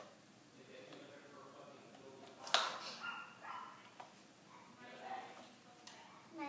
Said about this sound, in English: My little teacup doggy named Roger.